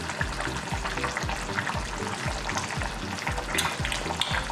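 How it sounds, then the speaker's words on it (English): Pineapple chicken in coconut milk simmers in a pan, giving a steady bubbling sizzle with a faint liquid trickle. Low periodic thumps repeat beneath it at a regular pace. "this has been simmering for another 10 minutes"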